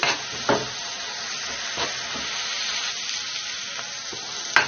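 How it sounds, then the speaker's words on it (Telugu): Green chillies and finely chopped onions frying in a pan for a fish curry give a steady, close sizzle with a few sharper crackles and stirring knocks, and no voices. "దీనిలోనే పచ్చిమిరపకాయలు వేసుకోవాలి ఉల్లిపరుకులు చిన్న ముక్కలు చేసి వేసుకోవాలి దీనిని మంచిగా వేయించుకోవాలి"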